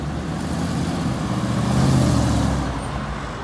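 A Ford Mustang drives past nearby with a loud, rumbling engine roar that swells and then fades slightly amid road noise.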